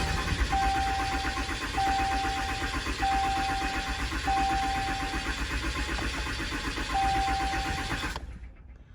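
A 2014 Ram Limited pickup truck engine, just after a fuel filter replacement, cranks and runs steadily at close range with a repeating high-pitched tone over the rumble, then cuts off abruptly near the end.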